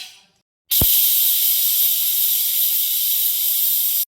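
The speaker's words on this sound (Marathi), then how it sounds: "आता फोडणी देऊन घेते भाजीला" A loud, steady sizzle bursts in as a hot tempering (phodni) hits dill-leaf (shepu) vegetable with green chillies, holding a bright, even hiss for about three seconds before cutting off abruptly.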